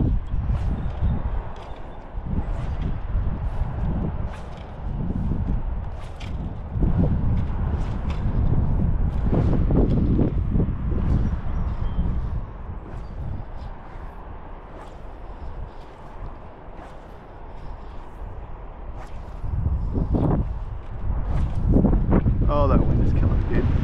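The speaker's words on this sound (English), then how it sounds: "that wind is killing me" Wind buffets the microphone while fly fishing for smallmouth bass from a boat, a loud gusting rumble that rises and falls throughout, with some talk mixed in.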